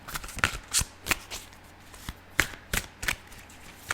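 Tarot cards riffle and snap in a run of sharp, close shuffling bursts, with individual cards slapping down between them, no voices.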